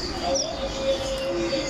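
Red avadavat (strawberry finch) giving brief thin chirps and tweets close by, a few short calls over a steady background hum, with no voices.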